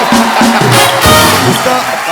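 A studio audience at The Kapil Sharma Show comedy taping claps and cheers loudly all at once in a dense, continuous burst of applause with whoops, while voices call out over it.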